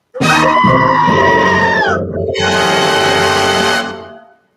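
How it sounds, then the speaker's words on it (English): A screaming goat sound bite plays loud and alone: a long, harsh, human-like scream that breaks off briefly near the middle, then resumes as a sustained blaring cry before cutting out. "That was the soundbite I was going for. There we go. The screaming goat."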